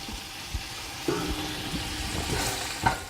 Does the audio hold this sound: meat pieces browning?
yes